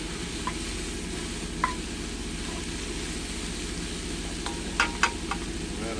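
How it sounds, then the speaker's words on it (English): Vegetables stir-frying over high heat for a vegan Singapore noodle dish cooked inside a semi-truck, a steady close sizzle with a few brief clinks and scrapes of stirring and no talking. "We want high heat, and we just want to just cook the vegetables, just barely."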